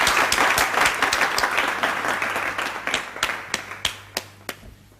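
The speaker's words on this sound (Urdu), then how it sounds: "تالیاں" An audience breaks into applause, a dense burst of clapping that thins out into a few scattered final claps.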